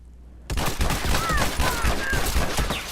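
Rapid gunfire from The Last of Us multiplayer, a dense burst of shots that starts abruptly after a brief quiet and keeps rattling without pause, with game effects over it.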